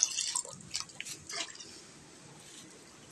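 Water poured from a vessel, with soap, while preparing for artificial insemination of a cow: brief splashing and dripping bursts over the first second and a half, then trailing off to a quiet background.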